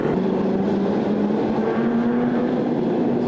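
Modified production race cars roar around the dirt oval at Lismore Speedway during a night racing meeting, a steady loud engine drone with shifting pitch as the pack gets away on a single-lane restart.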